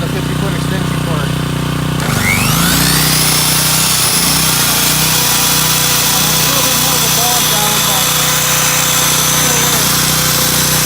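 A Sportsman 2000W gasoline portable generator runs under load, its engine revving up sharply after a couple of seconds and then settling into a loud, steady whine with a constant low hum, close by and alone.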